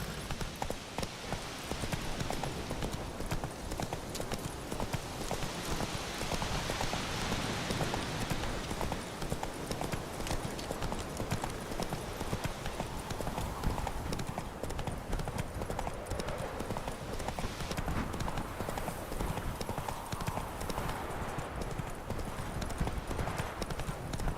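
Roach the horse trotting in The Witcher 3, hooves clip-clopping in a steady, continuous rhythm close by throughout, over a dense bed of outdoor ambience.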